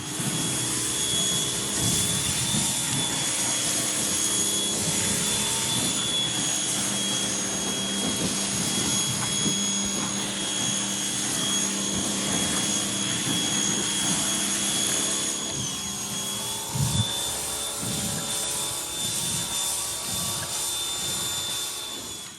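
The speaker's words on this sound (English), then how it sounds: "we're gonna go ahead and hit it with the rotary unit here" A rotary floor scrubber works a stained concrete driveway, one square at a time, after a Zep concrete and stone cleaner goes down, giving a loud, steady motorized whine and roar that runs without a break and never pauses for talk.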